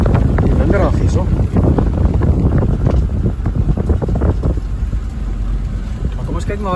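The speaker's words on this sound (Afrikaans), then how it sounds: "Die winderig hierso." Gusty wind buffets the microphone beside a dam while out fishing after rain, loud and continuous with rumbling bursts, as someone talks over it.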